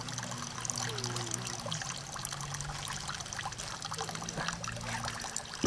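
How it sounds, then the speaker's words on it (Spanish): A water tap runs with a steady trickling, splashing stream close by, continuing evenly before ending with a brief clunk as the tap is closed. "Voy a cerrar el grifo que se sale el agua."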